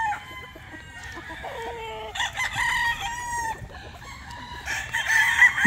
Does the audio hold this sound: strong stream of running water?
no